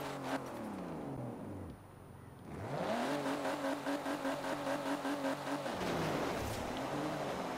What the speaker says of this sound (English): it spins the tires a little bit